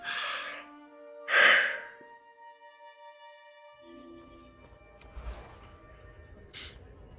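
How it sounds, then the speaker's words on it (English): A person yawns, with a breathy, drawn-out sigh near the start, then quieter breathing and faint background game music. "Pardon the yawn that is forthcoming."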